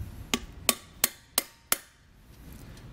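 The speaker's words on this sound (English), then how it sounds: "I prefer to use a metal hammer with a seal driver." A metal hammer strikes a seal driver to seat a hub seal during a Kodiak disc brake installation on a 2020 Grand Design Momentum trailer, five sharp evenly spaced taps, close and alone.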